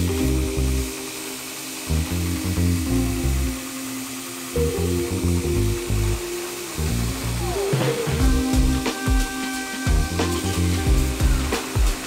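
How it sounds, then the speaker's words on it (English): A Broadbeck 2x72 belt grinder runs in loud close bursts while cut aluminum ends are cleaned up, its motor hum rising and dropping as the workpiece is pressed on and pulled off, with scraping grind during contact. "I'm gonna clean up the ends that I just cut on this aluminum on the Broadbeck 2x72 belt grinder."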